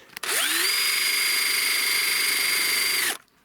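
A cordless power drill drives a screw into a trellis post, whirring up quickly to one steady, loud, close run of about three seconds before stopping abruptly.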